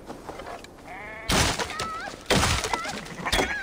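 Sheep bleating in the video game Assassin's Creed Valhalla: several loud, wavering bleats close by, one after another over a few seconds, with a faint thud and a quieter bleat before them.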